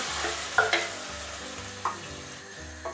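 A blended vegetable mixture for veggie bolognese sauce sizzles steadily in a hot pan, with a few clinks of stirring.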